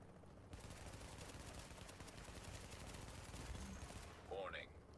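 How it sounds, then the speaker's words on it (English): Gunfire in the Dark Zone of The Division video game, a steady dense burst of rapid shots at moderate level across the clip, with a brief synthetic tone near the end. "I just shoot them right now."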